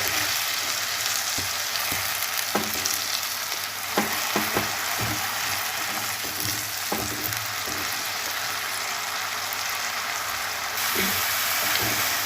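Pureed onions frying in a pan until brown for rajma curry, a steady hiss of sizzling oil with occasional clicks and scrapes of stirring, close and continuous without speech.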